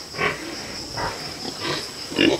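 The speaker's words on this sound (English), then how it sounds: "They're turning into pretty good sized pigs." Pigs in a fattening pen grunting in several short bursts, moderately close, over a steady background hiss.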